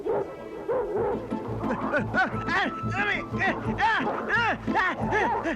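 A Doberman barks, yips and whimpers in quick, repeated bursts close to the microphone, mixed with excited voices talking over it throughout.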